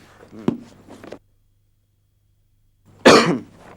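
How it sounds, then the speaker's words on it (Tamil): A man's soft rough cough or two up close, then silence, followed by one loud, harsh cough. "என்ன சார் இப்படி இருமுறீங்க"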